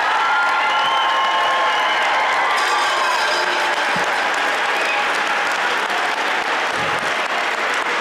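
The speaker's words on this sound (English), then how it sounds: "Have a one more round of applause for all the staff members tonight." A school-district recognition night audience applauds staff members with loud, sustained clapping and a few cheers, while a tonal hum and a brief rising tone sit under the crowd.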